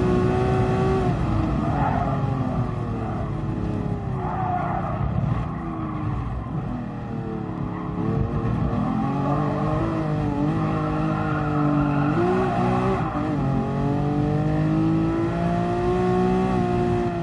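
Lamborghini four-wheel-drive race car in Gran Turismo Sport, engine droning loud and steady throughout with rising and falling revs through gear changes, close and continuous.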